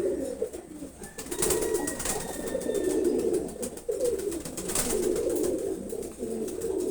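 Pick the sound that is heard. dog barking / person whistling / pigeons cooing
pigeons cooing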